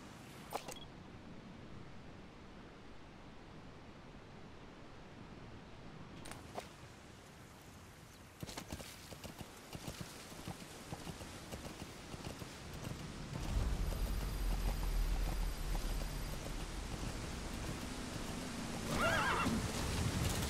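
In the video game Metal Gear Solid V: The Phantom Pain, a horse neighs and stamps hooves amid a steady outdoor ambience of wind or rain that grows louder toward the end.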